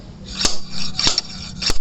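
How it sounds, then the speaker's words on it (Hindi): Three sharp metallic taps about half a second apart, from hammering an injector cooler into a Hyundai i20 diesel engine during a repair, with quiet gaps between the strikes. "ये इंजेक्टर कूलर को जो है ठोकना चालू कर दिया हमने"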